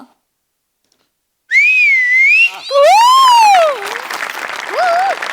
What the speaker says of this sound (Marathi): पुरुष मायमिंग करतो, बाई खरी शिट्टी वाजवते